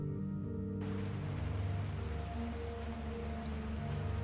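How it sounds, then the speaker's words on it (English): Steady rain falling at night in the video game Resident Evil 4, a dense, continuous hiss that sets in abruptly and holds at an even level under a low ambient drone. "things have gotten genuinely creepy as it's now dark out and raining"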